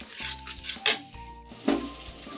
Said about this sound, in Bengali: গ্রেভিটাকে ভালো করে তৈরি করার জন্য আমাকে নাড়াতে হবে যাতে ধরে না যায়।